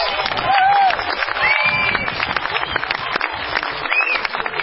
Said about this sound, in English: And she deserves a round of applause.